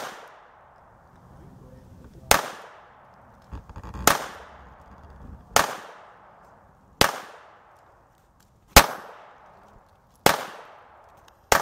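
Single gunshots from a handgun at an indoor range, seven sharp loud cracks spaced roughly every one to two seconds, each with a brief decaying tail, with faint background murmur between shots.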